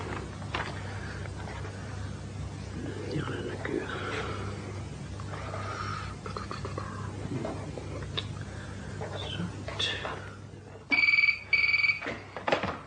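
A telephone rings out repeatedly without being answered in a BBC radio mystery drama, the bursts growing loud near the end over a murky background of ambient sound.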